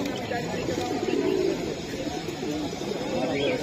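A red-tailed (laldom) male pigeon coos at a busy pigeon market, its soft repeated calls half buried under steady crowd chatter and nearby voices.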